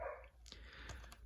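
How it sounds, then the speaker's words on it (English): A pet dog indoors gives a few short barks and yips, fairly faint and slightly distant, spaced across about a second. "Sorry about that. That was my dog."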